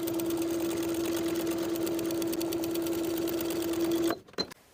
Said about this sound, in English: Understitch the pocket, sewing the pocket to its seam allowance underneath with about an 1/8 inch seam allowance.